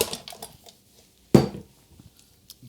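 A mixer paddle being scraped clean inside a bowl of whipped cream for a gluten-free tiramisu cake, giving scattered light clinks and taps, with one louder knock in the middle and quiet handling noise around it.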